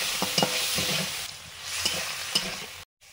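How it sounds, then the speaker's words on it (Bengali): Salted, turmeric-coated shrimp frying with whole cumin in a pan, giving a steady close sizzle with a few light stirring scrapes before it cuts off abruptly. "একটু গোটা জিরে দিলাম, নুন হলুদ মাখানো চিংড়ি"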